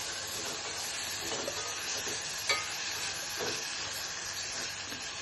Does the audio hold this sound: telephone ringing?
no